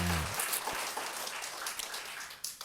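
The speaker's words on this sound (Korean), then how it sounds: "박수로 맞으세요" Audience applause at a Buddhist monk's question-and-answer talk show, a steady wash of clapping from a crowd that continues for the whole stretch after a brief tone at the start.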